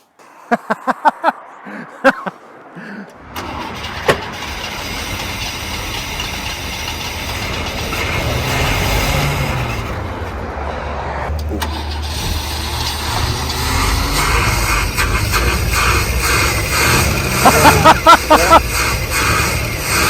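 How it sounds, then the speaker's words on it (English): A carbureted Holden Commodore project car engine, just brought back to life, is revved by working the throttle: a few light clicks, then a loud, rough, sustained roar that surges and rumbles close by until the end. "I'm throttling that. I'm working the throttle on that, obviously."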